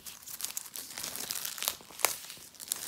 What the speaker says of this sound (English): Taking off the plastic.